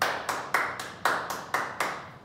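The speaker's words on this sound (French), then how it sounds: "On salue et on s'applaudit vraiment." A group claps in unison after a martial arts exercise, seven sharp, evenly spaced claps at a steady beat that fade slightly toward the end, with no voices.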